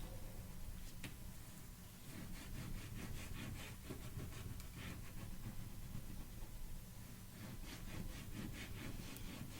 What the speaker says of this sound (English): go ahead and burnish it really well with your bone folder